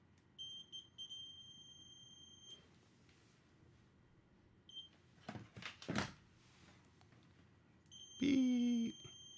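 A cheap multimeter set to continuity mode gives a steady, loud electronic beep near the end, after fainter earlier tones, handling clatter and a brief voice.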